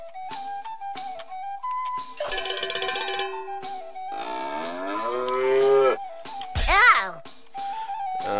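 Cartoonish cow moos sound out in a video game, mixed with chiming game tones and other synthetic effects, while a young voice talks over the sequence.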